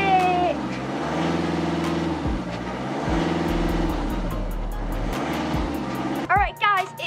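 A car engine rigged for remote control revs in rising and falling steps, holding a strong droning pitch before cutting off abruptly near the end, with voices talking over it.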